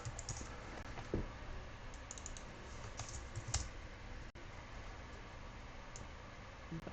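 Steady typing on a computer keyboard, a dense run of light clicks and taps close to the mic over a low background hiss, with a few sharper keystrokes standing out.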